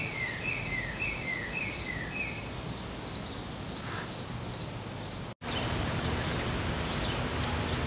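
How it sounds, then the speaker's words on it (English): Steady outdoor rain hissing softly as a continuous wash of noise, with faint bird calls chirping early on and a brief cut partway through, no talking. "Don't worry about the rain."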